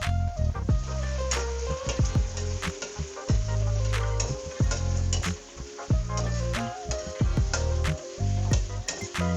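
Shrimp fry in hot oil in a pot for a spicy dry-pot dish, a loud continuous sizzle broken by repeated sharp clicks and scrapes of stirring against the metal.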